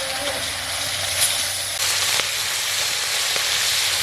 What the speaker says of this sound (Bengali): নুন হলুদ দিয়ে ভেজে নেব।